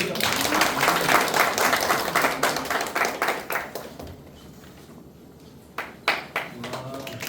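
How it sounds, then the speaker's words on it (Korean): A church congregation at a lecture session claps in a lively round that thins out and fades. A few scattered claps return near the end, with faint voices in the room. "박수"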